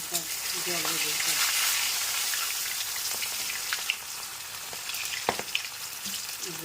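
Rohu fish fries in hot oil in a wok on a stove, giving a continuous crackling sizzle with scattered sharper pops and spits. A voice speaks briefly near the start.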